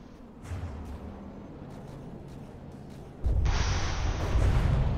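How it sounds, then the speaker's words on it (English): A deep, rumbling blast rolls in with a sudden louder burst of crackling noise partway through, an explosion in the game From the Depths; no talking. "Oh my god, awesome explosion."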